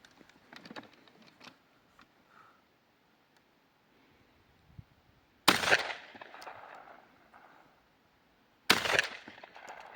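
Two loud 12 gauge shotgun slug blasts, fired through a Paradox choke, go off a few seconds apart, each trailing into a rolling echo, with faint rustling and handling sounds before them.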